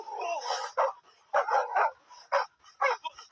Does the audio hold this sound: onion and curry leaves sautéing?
no